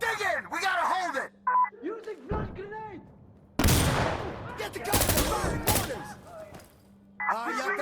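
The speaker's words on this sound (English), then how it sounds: "Get the guns and fire mortars!" Insurgency Sandstorm on PS5 plays out in bursts of gunfire and heavy mortar blasts, booming explosions crashing in between shouting voices and beeping game signals.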